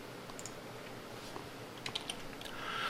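Computer keyboard typing while entering an invoice billing description: a few soft, scattered key clicks over steady room noise, faint and close.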